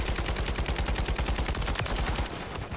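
Rapid automatic gunfire in a shooter video game, a steady burst of loud sharp shots in quick rhythm that slows and thins near the end, with no voices.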